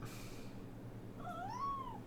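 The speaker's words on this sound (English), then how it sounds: "I believe we have a stray cat on board the ship" A cat gives one short, rising and falling meow over a steady low hum. The ship setting is quiet apart from the hum.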